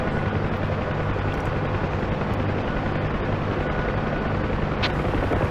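Huey helicopters in the DCS combat flight simulator, a continuous close rotor thump and turbine drone holding steady throughout.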